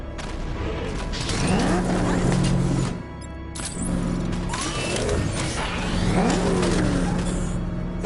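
The Batmobile's engine in the video game Batman: Arkham Knight revs hard and loud, with repeated surging roars and a short dip in the middle.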